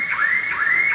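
Car alarm on a 2016 Suzuki Alto 800 sounds up close and loud, a repeating electronic siren sweeping up in pitch about every 0.4 seconds, steady and alone.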